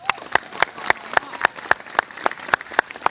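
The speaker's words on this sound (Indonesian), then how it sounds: "Tepuk tangan untuk orang kampung." A gathered audience at a religious talk claps in a steady, evenly spaced rhythm, with crisp beats over a soft crowd murmur.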